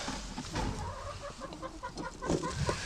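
A broody hen sitting on duck eggs gives soft, rapid clucks in a quiet, close series with no talk.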